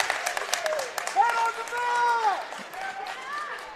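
Spectators at an Ankeny high school wrestling meet cheer and shout in a gym, a loud, roomy crowd swell with sustained yells rising over the background.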